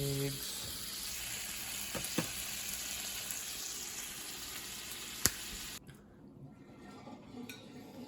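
Sausages, bacon and eggs fry in a pan with a steady, even sizzle throughout, broken by a few faint clinks, before the frying drops abruptly quieter near the end.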